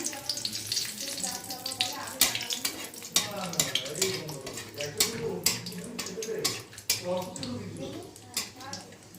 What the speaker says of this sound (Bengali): ওই তেলের মধ্যে দুটো শুকনো লঙ্কা ছিঁড়ে দিয়ে দিলাম, তেজপাতা দিলাম